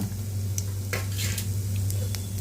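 Curry leaves and grated coconut fry in oil for wedding-style sambar, a close crackling sizzle with a few sharp pops and a stirring scrape over a low steady stove hum.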